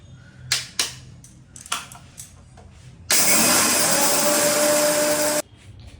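A few sharp knocks and clatters, then an electric grinder whirs loudly for about two seconds as it grinds whole spices into powder, stopping abruptly.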